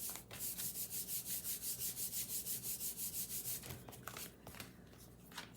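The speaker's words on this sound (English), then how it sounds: "I'm just going to turn it over and give it a little back rub." Steady back-and-forth rubbing on the back of a layered paper card, about twenty quick even strokes close up, then a few scattered handling taps and rustles; no talking.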